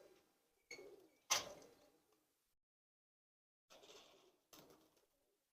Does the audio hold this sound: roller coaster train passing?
no